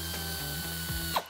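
Ratchet loosening the 15 mm bolt on a 1994-2004 Mustang rear shock, a short run of close, rapid mechanical clicks with a louder clack near the end.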